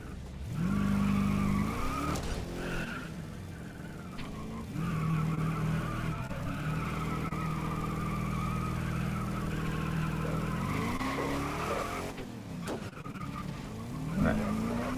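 F1 race cars in a multiplayer racing game skid and ram one another, with long tire squeals, engine whine rising and falling, and scraping slides, loud and close and continuing throughout.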